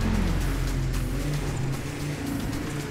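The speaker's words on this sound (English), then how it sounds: "I think I left the engine on." Low, steady engine idle of a BMW 325is in the GTA video game, a continuous rumble with shifting low tones that stays loud throughout with no talking.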